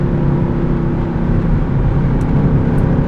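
A loud, deep naturally aspirated V8 engine of a Mercedes-Benz C63 AMG 507 Edition drones steadily close by, its rumbling pitch shifting slightly as it downshifts.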